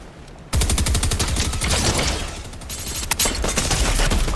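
Rapid, loud submachine-gun fire in a video game rattles out in long continuous bursts with only brief gaps, close and dominating the scene.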